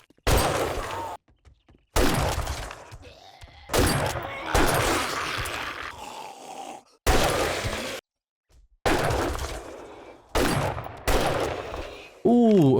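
Gunfire in the survival game 7 Days to Die comes in a series of loud, separate bursts with short silent gaps between them. Some of the volleys run for a second or more.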